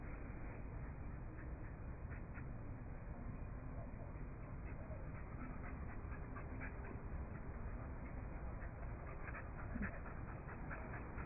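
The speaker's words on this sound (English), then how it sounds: "Hey puppies." Puppies pant and whimper in quick, breathy bursts under a steady muffled background, a faint and continuous sound with no clear pauses.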